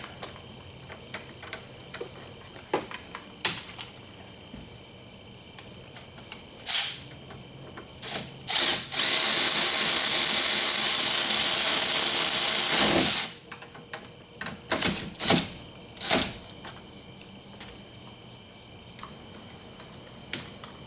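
A bolt being fastened on a Jeep Wrangler JK steering wheel, heard as a few clicks and clacks followed by a sustained, loud whir of a power tool for several seconds, then more scattered mechanical clicks.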